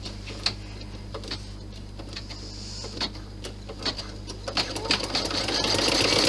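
An embroidery machine stitching vinyl down in the hoop hums with a low steady drone and rapid ticking needle strikes, growing busier and louder toward the end.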